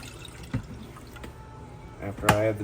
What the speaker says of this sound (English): I take white distilled vinegar, and I'll do 2 cups of white distilled vinegar.